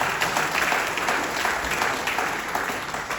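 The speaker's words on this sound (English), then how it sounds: "just want to give those guys a big round of applause" Applause from an audience at a public meeting about data centers, a sustained wash of many hands clapping at steady volume throughout, heard from within the crowd.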